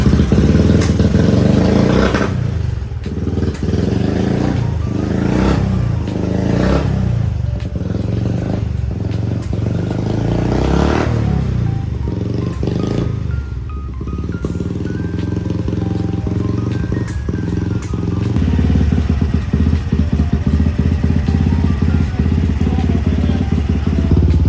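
A Royal Enfield motorcycle modified to look like a Harley-Davidson, close and loud, with a series of revving surges and a deep thumping idle, then a steadier running rumble.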